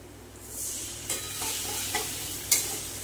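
Spice paste being stirred and fried with nearly browned onions in a pan, a steady close sizzle with a few spatula scrapes and knocks against the pan.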